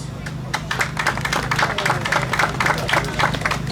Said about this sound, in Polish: Tak mogą być brawa